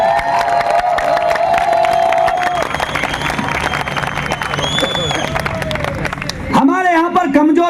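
An audience at a direct-selling speech event claps and cheers, a dense wash of applause and crowd noise under someone talking, ending abruptly as his amplified voice returns.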